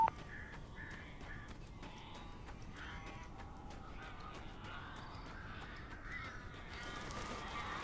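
Crows caw repeatedly in Alan Wake Remastered, harsh calls arriving in an uneven series over a steady ambient background, fairly faint and without speech.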